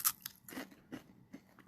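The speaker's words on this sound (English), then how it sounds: "So I have this unique little puff pop treat and it's very crunchy." Caramel-coated puff pop snack being bitten and chewed up close, a sharp crunch followed by three or four quieter crackling chews, with no talking.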